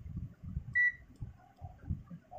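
A single short electronic beep from a multimeter during a continuity test, clear and close, set against low background rumble and handling noise.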